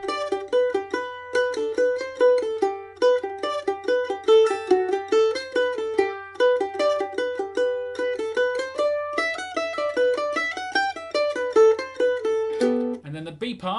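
Mandolin alone plays the A part of the traditional fiddle tune Miss McLeod's Reel, a steady run of bright picked notes in reel rhythm, close and clear, with a brief strum at the end.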